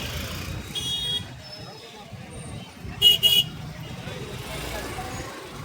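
Traffic with large vehicles moves near a crowd around police in Baramati. A short double horn toot rises above the engine rumble and crowd murmur, and people talk throughout.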